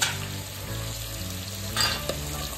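Ground spices, including turmeric, coriander-cumin powder and garam masala, frying in a pan give off a steady, close sizzle that runs unbroken with no talk.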